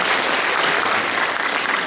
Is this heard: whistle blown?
no